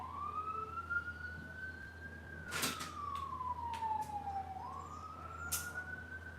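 Ambulance siren wailing in the background of a night during an island-wide power blackout, a steady rising and falling tone that sweeps through repeated cycles at moderate distance, with brief bursts of other noise around it.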